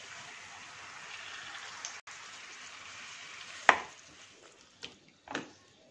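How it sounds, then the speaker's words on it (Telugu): Chicken pieces go into a pan of fried masala paste for a chicken and chana dal dish, setting off a steady hiss of sizzling with a few sharp clatters and stirring knocks toward the end. "వేసుకున్న మసాలా అంతా వేగిన తర్వాత చికెన్ వేసుకుందాము"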